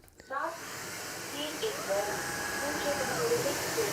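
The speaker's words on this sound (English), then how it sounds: "when you're actually releasing the steam, then the LED strip will light up red continuously" Steam hisses steadily from an Anker Mach V1 Ultra all-in-one vacuum in its steam mode, a close, continuous breathy rush with faint tonal whines drifting over it, starting abruptly after a brief click.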